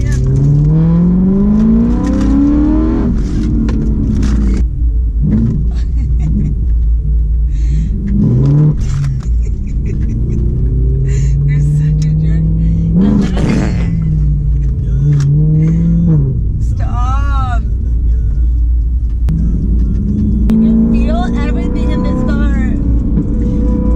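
A loud tuned BMW M3 rumbles and revs hard from inside the cabin, with repeated rising revs over a deep idle while people talk.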